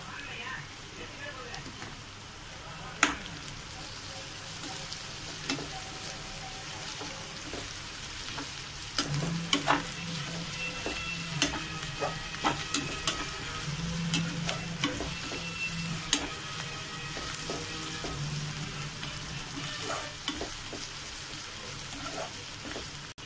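Ginger garlic paste frying with onions in a pan for a prawn thokku, a steady hissing sizzle with scattered clinks and scrapes of a stirring spoon, continuing throughout at moderate loudness.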